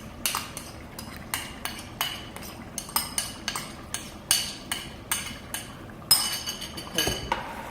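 A metal utensil knocks and scrapes against a pot in a bean stew, breaking fish down into the sauce, with about two dozen sharp, evenly spaced clinks up close and no talking.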